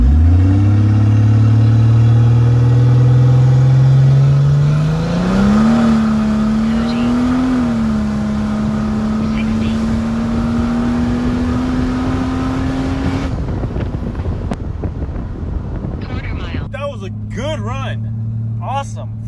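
An old Mercedes OM603 diesel with a Holset turbo and reworked boost controller accelerates hard on a quarter-mile drag run, a loud droning engine note climbing steadily for about thirteen seconds before it lets off, with a voice speaking at the end.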